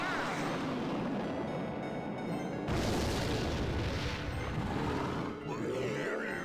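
Rocket spell explosions in a Clash Royale 2v2 match: a dense, continuous barrage of booming blasts and crashes with a sharp heavier impact partway through, loud and sustained under game effects.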